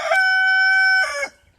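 A broody hen gives one loud, drawn-out call lasting about a second, close by, ending in a rougher burst before quiet.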